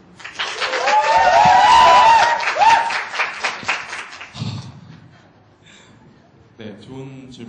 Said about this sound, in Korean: 1조 강호석 학생한테 한번 격려의 박수